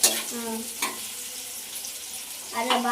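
Onions fry in a pan while being stirred, with a constant sizzle underneath and a couple of spoon scrapes, close by. A voice and other people's voices are heard briefly over the cooking.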